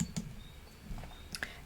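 Scattered keystrokes on a computer keyboard while entering a spreadsheet formula, a few soft, irregular clicks close by with quiet gaps between them.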